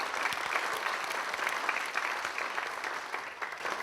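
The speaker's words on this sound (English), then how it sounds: "So give yourself a round of applause." An awards ceremony audience at a youth film festival claps in a dense, continuous round of applause, the many hands crackling at a steady level from start to finish.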